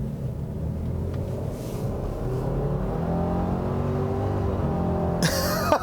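A 2017 Subaru Forester XT turbo engine accelerates hard, a steady loud rumble with rising harmonic tones climbing in pitch, ending with a brief brighter burst near the end; no talking.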